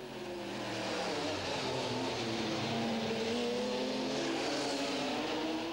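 NASCAR-derived banger race cars roar around the track at a 2003 European bangers championship race, a loud, continuous engine drone that rises slightly in pitch as the cars hold speed.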